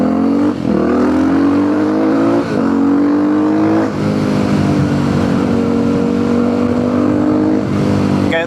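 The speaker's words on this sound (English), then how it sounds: "Now the bike is definitely feeling a lot better with the exhaust remap" Supermoto motorcycle with a remapped exhaust, ridden on a sunny day: a loud, continuous engine note close up that climbs repeatedly through the gears, with brief dips between pulls and no voices.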